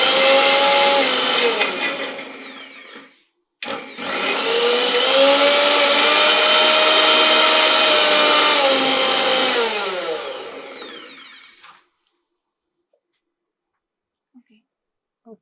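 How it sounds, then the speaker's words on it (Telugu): A kitchen mixer grinder blends cut potato into paste, a loud, steady whirring drone that runs for about three seconds, stops briefly, then restarts and winds down near the end, followed by near silence. "ఆలు కట్ చేసి కొంచెం అది మిక్సీలో"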